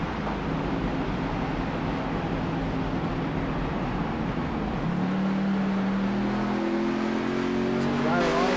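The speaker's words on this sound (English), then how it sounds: "Shut the car off, trying to save as much fuel as he can." A Doghouse Racing race car in a Tuesday night race at the Milwaukee Mile rolls along with its engine shut off to save fuel, a steady loud rush of wind and road noise with a rising hum near the end.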